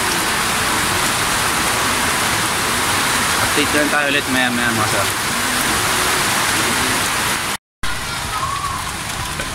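Heavy rain pours down steadily as a broad, loud wash of noise at a pigeon loft, with someone talking over it partway through and a brief dropout near the end.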